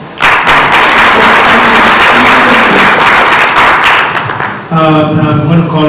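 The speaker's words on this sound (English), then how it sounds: "they deserve a round of applause" Audience applause for panel speakers at a food industry conference, a dense steady wash of clapping that carries on for several seconds and then gives way to a brief tonal sound near the end.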